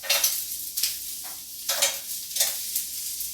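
Fish for Hawaiian fish tacos frying in a pan, a close, crackling sizzle broken by repeated bursts of stirring or scraping about every half second, with no talking.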